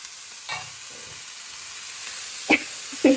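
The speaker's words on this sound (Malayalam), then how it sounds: "എന്നിട്ട് ഇതിനെ നന്നായി ഇളക്കുക" Cooked horse gram stirred in a frying pan over steady sizzling, with a few scraping strokes of a spoon against the pan that sound close and clear, and no talking.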